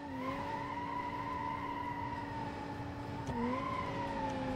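A Mercedes AMG car in a video game spins its wheels, a loud sustained tyre screech with a steady tonal whine that dips briefly and then resumes.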